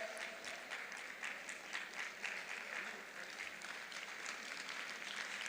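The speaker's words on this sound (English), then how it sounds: "A round of applause for Professor" A crowd claps at an awards ceremony honouring female achievers, with sustained, fairly even applause from many hands filling the whole stretch and no voices on top.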